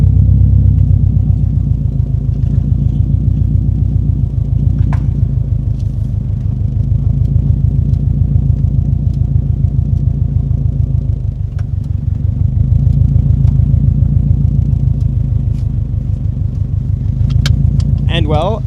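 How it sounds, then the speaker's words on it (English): A Subaru WRX STI idles and creeps out of a garage, its engine a steady, loud, deep rumble with a gentle rise and fall in revs throughout. "then we can pull the car out of the garage for the last time"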